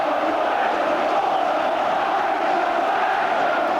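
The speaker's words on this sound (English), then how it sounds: "the crowd now in tremendous voice" Football crowd in a stadium at a 1990 Middlesbrough versus Aston Villa match roars and chants as a continuous, dense wash of voices.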